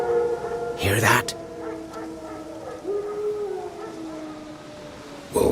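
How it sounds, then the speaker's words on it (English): Wild dogs howl in The Witcher 3 video game, long drawn-out wavering cries at a distance, overlapping and fading, with a brief sharp noise near the start and game speech around them. "Wolves? No. Wild dogs."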